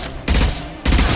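Gunfire in the video game Mass Effect 2, two loud, close bursts of rapid shots separated by a brief lull, with no voices.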